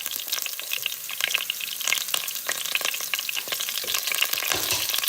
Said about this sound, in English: And I'm gonna put some carrots inside.